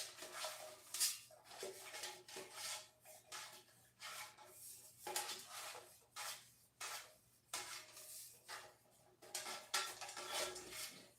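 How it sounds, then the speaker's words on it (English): Baking pan for banana bread being greased by hand, with repeated scraping and rubbing strokes against the metal, close and quiet, in an uneven rhythm. "grease the pan up real good"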